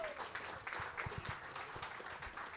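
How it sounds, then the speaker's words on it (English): Light applause for three door openers at a live comedy show, a scattering of claps that stays fairly quiet and thin, heard from a distance across a room. "Give them a big round of applause,"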